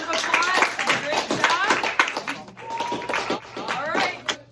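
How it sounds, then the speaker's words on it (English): Classroom applause at the close of a cooking session making coffee cake and veggie dip: a few people clap in quick, uneven bursts for several seconds, close and moderately loud, with chatter and voices over it. "Big round of applause"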